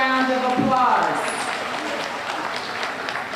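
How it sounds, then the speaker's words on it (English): An older audience at a community summer event bursts into sustained, fairly loud applause that trails into even clapping, with a voice briefly audible at the start. "So give yourselves a big round of applause."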